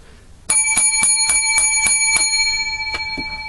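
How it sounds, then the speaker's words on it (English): Seven loud, evenly spaced bell strikes with bright sustained ringing overtones open a talk show, the tones overlapping and slowly decaying, with no voices. "Seven bells to start the show off."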